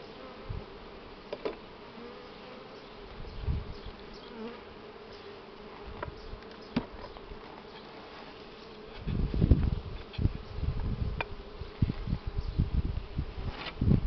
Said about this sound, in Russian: Пчелки крылышками шамотят уже по печатке, не по пустому соту.